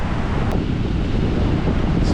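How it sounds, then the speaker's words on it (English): Ocean surf along the rugged Big Sur coast beside the Pacific Coast Highway, a loud continuous roar of breaking waves mixed with heavy wind buffeting the microphone. "look at those waves over there. Oh my gosh, those are monster"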